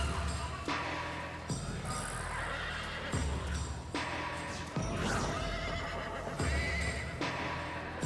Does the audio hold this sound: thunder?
no